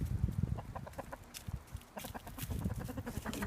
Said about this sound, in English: We've got some big roosters.